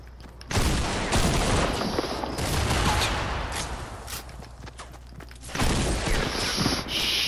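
Dense, continuous video game gunfire with overlapping rapid shots and clatter, loud and sustained for several seconds with brief dips in intensity.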